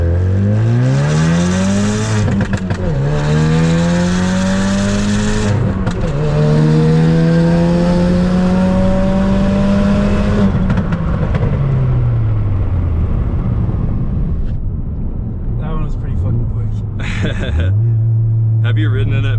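Ford Focus RS accelerating hard in first gear with the window down, engine note climbing through repeated rising sweeps with brief shift dips, loud and close from inside the cabin, then settling to a steady drone with people talking over it.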